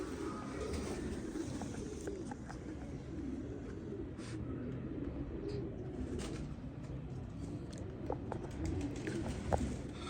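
Pigeons coo steadily in a loft of long-flying racing birds paired as males and females, soft throaty calls repeating over a constant low rumble of background noise.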